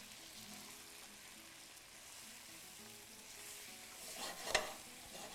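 Torn basil is tossed in a hot pan of sizzling food, giving a steady close frying hiss with a brief louder rustle of the toss near the end.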